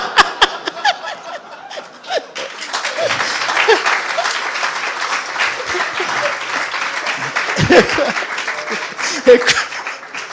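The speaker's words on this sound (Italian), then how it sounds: "voi applaudite" Theatre audience at an Italian comedy monologue breaking into sustained applause mixed with chuckles and laughter, loud and dense across most of the stretch after a few scattered claps at the start.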